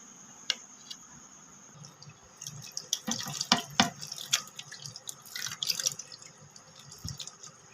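Cut eggplants rinsed under a running kitchen tap, water splashing and dripping unevenly with bursts of louder sloshing as the pieces are handled, close and fairly quiet.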